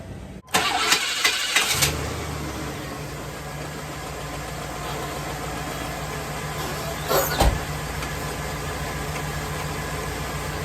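A Chevrolet OBS K1500 pickup engine cranks and catches with a few revving bursts, then settles into a steady low idle, with one brief rev later on.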